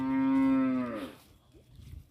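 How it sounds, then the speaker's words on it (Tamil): A black and white cow gives one loud, drawn-out moo lasting about a second, close by, followed by quiet outdoor background noise. "இதுதான் கருப்பு வெள்ளையில் வாடை மாடு தான்,"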